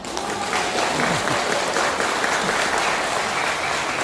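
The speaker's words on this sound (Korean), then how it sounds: "박수 한번 치실래요?" A large audience at a press conference held by a pastor claps in a thick, continuous wash of applause that stays loud and even from start to finish.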